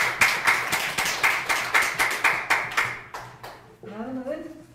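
An audience at a church leaders' press conference claps in unison for the speakers, a loud, regular beat of about a dozen synchronized claps that fades out, followed by a voice speaking.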